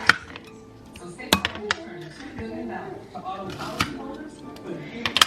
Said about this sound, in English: Super fast and easy way to slice up a whole bunch of strawberries.